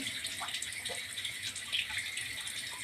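Water running steadily from a kitchen tap while cooking, a soft continuous hiss with faint splashing, moderately quiet and uninterrupted, with no voices.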